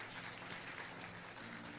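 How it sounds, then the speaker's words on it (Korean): A Korean church congregation at a Sunday worship service claps warmly in welcome, a steady, even patter of many hands, faint and distant, with no voices. "한번 따뜻하게 박수로 웰컴백."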